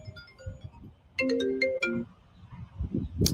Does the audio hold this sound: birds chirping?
no